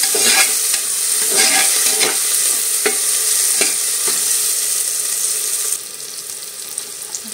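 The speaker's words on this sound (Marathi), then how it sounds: "ते पण छान परतून घ्या तेलामध्ये" Whole spices (bay leaf, cinnamon, cloves, black pepper, green cardamom) sautéing in hot oil for dal khichdi, giving a steady loud sizzle with clinking stirs near the start. The sound thins out toward the end, and no one speaks.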